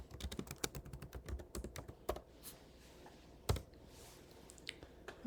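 Rapid computer keyboard typing while an assembly name is entered, a close, irregular burst of crisp key clicks with short pauses and a couple of louder strokes.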